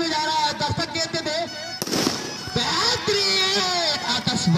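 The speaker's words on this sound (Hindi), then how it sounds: "बेहतरीन आतिशबाजी" Fireworks going off at a village cricket tournament final, a loud broadband burst of crackling and bangs under an announcer's continuous amplified commentary.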